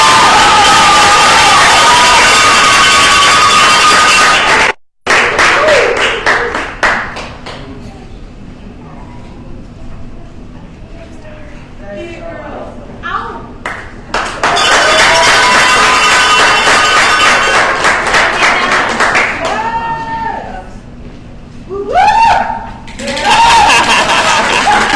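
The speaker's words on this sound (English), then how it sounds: "We can stay here and clap all day." At a culinary job training graduation ceremony, a crowd cheers, claps and laughs in long loud bursts that surge, briefly cut out, then swell again, with shouts and excited voices mixed through the noise.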